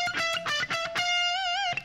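A distorted electric guitar plays a short solo phrase on the second string, a few quick picked notes followed by a sustained note with wavering vibrato, loud and alone.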